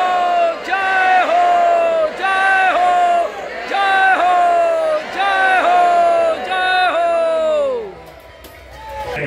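A crowd at a Hindu religious gathering, an Ashvamedha Mahayajna, shouts a rhythmic victory chant in repeated loud, drawn-out unison cries, about five in a row, fading at the end.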